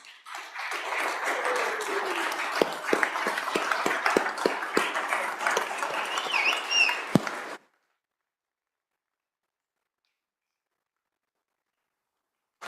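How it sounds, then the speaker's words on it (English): Applause from a legislative chamber's floor session for a visiting school class, a dense crowd clapping steadily for about seven seconds, with a few sharper claps standing out, then cutting off into silence. "We can give them a round of applause."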